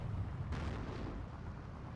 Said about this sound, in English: He's dropping a lot of heavy artillery on the Hummels.